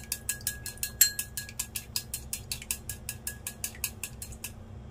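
Eggs are beaten briskly with a utensil in a bowl, giving a fast, even run of close, bright clinks, roughly four or five per second, with no talk.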